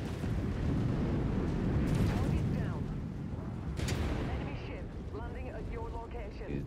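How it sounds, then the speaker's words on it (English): A mech explodes in the Mechwarrior 5 Mercenaries video game, a loud sustained rumbling blast with sharp bursts and crackling debris, fading into lingering rumble while voices talk over it. "He had a little nuclear explosion."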